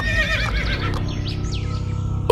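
A horse whinnies loudly and close up, a long wavering neigh that rises and then trails off in breathy snorts, with no voices around it.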